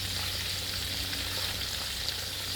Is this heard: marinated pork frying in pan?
yes